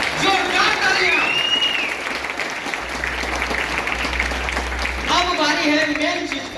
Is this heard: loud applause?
yes